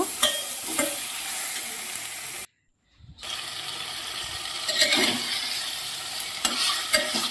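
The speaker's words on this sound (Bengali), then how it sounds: "এবার খাসি মাংসটা আমি ভালো করে একটু কষে নেব" Salted, turmeric-coated mutton pieces sizzle as they are stir-fried in a pan, a moderate frying hiss with scraping and clinks of a spatula, briefly cut to silence partway through before resuming.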